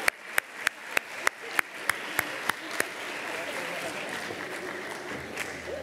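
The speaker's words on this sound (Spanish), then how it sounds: "Un aplauso para los 31 coordinadores de los Ceuta Skills 2023." An audience at the Ceuta Skills 2023 inaugural gala in the Revellín applauds the event coordinators, a steady wash of clapping under a sharp, evenly spaced rhythmic beat that stops partway through while the clapping continues.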